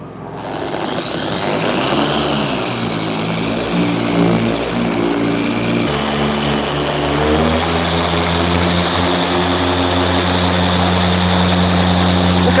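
Halfords machine polisher spinning up on soft start, a steady loud motor whine with sustained harmonic tones that wavers, then settles into a smooth, continuous high-speed drone with no talking.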